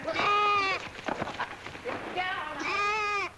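A goat standing in a mint bed bleats in a few wavering, nasal calls, one near the start and another toward the end, loud and close, with brief voices talking between the bleats.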